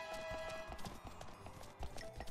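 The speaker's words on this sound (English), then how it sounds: "I got a horse, I got a horse" A horse in the video game Happy Wars trots along with quiet, rhythmic clip-clopping hoofbeats, steady and fairly faint, with no voices.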